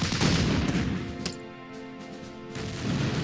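Gunfire in the World War II strategy game Battle Academy as a Sherman tank comes under attack, a burst of loud cracks and a rumbling blast that fades into a short lull before more noise builds.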